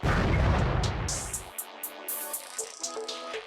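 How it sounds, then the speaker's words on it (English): A heavy explosion in the video game War of the Human Tanks, a loud booming blast that fades out, followed by sharp metallic pops and clinks. "Field explosion, man."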